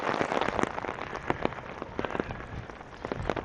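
Steady rain falls during a walk through Regina in June, a dense, even hiss of drops with sharper close patters scattered throughout and no voices.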